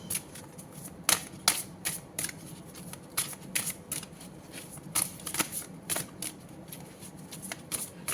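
Tarot cards shuffled and drawn by hand, a run of crisp riffling flicks and soft card slaps in irregular bursts, close and fairly quiet, with no talk over them.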